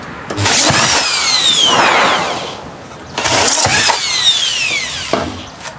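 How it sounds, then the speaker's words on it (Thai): A power drill boring holes in a foam box whines up and winds down twice, each burst lasting about two seconds, loud and close. "เวลาจะเอาลงไปให้ดอกให้สว่านหยุดหมุนก่อนนะครับ"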